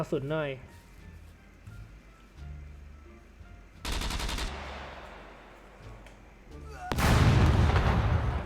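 Gunfire in the video game SCUM, heard as two dense bursts of rapid automatic shots separated by quieter game ambience, the second burst louder and closer.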